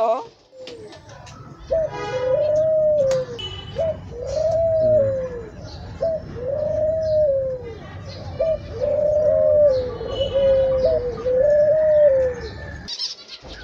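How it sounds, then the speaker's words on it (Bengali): Pet birds on a small hobby farm coo again and again as a hand touches them, giving a steady run of close, rising-and-falling calls over roughly a dozen seconds, with someone talking now and then. "এই যে আমি হাত দিলে দেখবেন ডাকা শুরু করছে, প্রচুর ডাকে"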